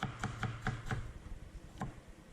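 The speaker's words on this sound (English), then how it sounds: "Take a tomato, cut it in half," A knife chops through a tomato on a board for a blue cheese wedge salad, giving a quick run of four or five crisp, close cuts, a pause, then one more chop.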